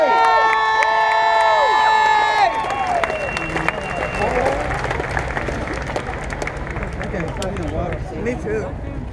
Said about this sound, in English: one more round of applause for our Assembly!